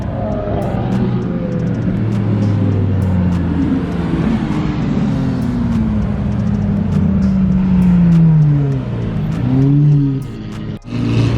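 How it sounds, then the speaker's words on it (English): Supercars, among them Lamborghinis, a Porsche Turbo S, a McLaren Senna, a Ferrari Pista and an old Bugatti, pour through a busy intersection, engines droning loudly and steadily with rising and falling revs and passing tones, close by and without talking. "The intersection is just flooded with supercars in every direction."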